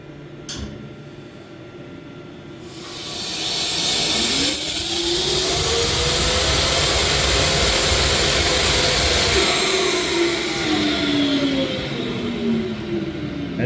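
A Holset turbocharger cartridge, remanufactured to Cummins spec, spins up on a VSR balancing machine, a loud whine sweeping upward in pitch over a broad roaring hiss, holding high and steady before easing down, with no talk.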